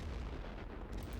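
Artillery fire in The Great War: Western Front, a World War I strategy game, heard as a dense, low continuous rumble of distant guns and blasts that holds steady for about a second with no distinct single shot.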